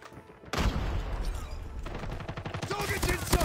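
Gunfire in Call of Duty Mobile, a loud stretch of shooting that begins abruptly and later turns into a clearly repeated rapid automatic rhythm of close shots, with game voices mixed in.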